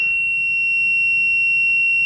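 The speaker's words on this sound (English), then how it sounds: "can hear this sound beep when this probe connected directly" A continuous high-pitched electronic beep from a test probe connected to an Acer laptop that won't power on, held steadily without a break, sharp and clear against a quiet background.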